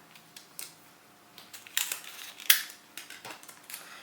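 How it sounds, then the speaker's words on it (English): Tape being pulled off a roll and pressed down onto fabric for tracing an embroidery pattern, heard as a short ripping strip and sharp crackles among soft taps and rustles, close and quiet. "I'm going to tape down my fabric here."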